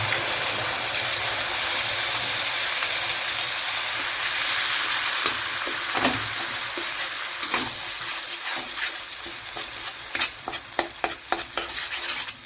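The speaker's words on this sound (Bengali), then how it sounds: "এবার এই পেঁয়াজ বাটাটাকে আমি ভালো করে ভেজে নেব।" Ground paste of three medium onions frying in a pan for a prawn malai curry, a steady close sizzle with scraping stirring strokes that grow more frequent toward the end, no talk.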